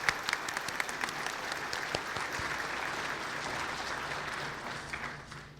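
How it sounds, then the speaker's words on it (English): A modest room of attendees at a monthly HASP program claps for the day's guests, a brisk scattered start swelling into steady applause that tapers off near the end, moderately distant. "Let's give them all a round of applause."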